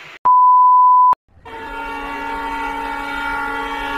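A Bongaon local train at a Kolkata station sounds one loud, steady electronic horn tone for about a second, then a drawn-out harmonic whine as the train moves off, with no voices.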